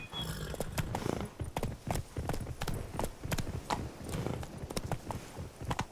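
Roach the horse's hooves in Witcher 3, a steady close clip-clop of shod hooves in an even walking rhythm that continues throughout.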